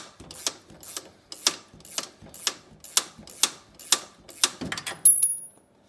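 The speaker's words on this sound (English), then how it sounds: "So I'm gonna loosen the shocks up here." A wrench works the shock nut loose on a Club Car DS golf cart, ratcheting in a quick, even series of sharp clicks about twice a second, fairly close and alone, ending with a brief metallic ping.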